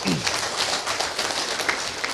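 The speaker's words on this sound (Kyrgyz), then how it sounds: "Кол чаап коебуз" An audience claps together in a brief, dense burst of applause, steady throughout and fairly near.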